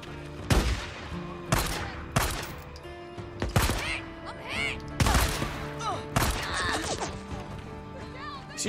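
Enemy gunfire in Days Gone, a post-apocalyptic survival game, with a series of loud, sharp shots cracking out at irregular intervals, some close and some farther off, among ambient outdoor sounds.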